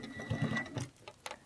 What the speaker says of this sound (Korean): 옆선을 박음질 할 겁니다